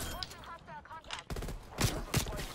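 Gunfire in Call of Duty Cold War comes in a few loud shots and short bursts, which take over after a player talks over the game.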